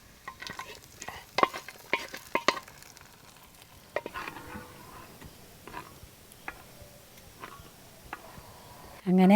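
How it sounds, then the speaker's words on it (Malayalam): Raisins frying in hot ghee for lentil payasam, heard as a soft sizzle broken by sharp ladle taps and scrapes against the pan, close and intermittent, with a louder burst at the very end. "മുന്തിരി ഇതിലേക്ക് വറവ് വയ്ക്കുക"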